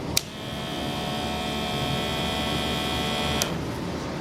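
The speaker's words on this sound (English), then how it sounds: "The sound you just heard was the motor pumping the air in." A small motor pumps air into a homemade drink dispenser, a steady electric hum and whine lasting several seconds, bracketed by a click at the start and another at the end, close by and with no speech.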